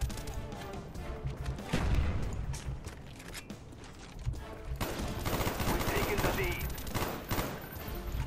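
AUG assault rifle fire in Call of Duty: Black Ops, dense bursts of loud gunshots and explosions in a chaotic multiplayer match, with brief quieter stretches and layered game noise throughout.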